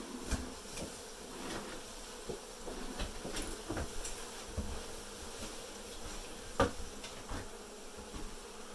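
Honey bees buzz in a dense, steady drone during a hive cutout in Dorrance, Kansas, with scattered knocks and clicks close by and no talking.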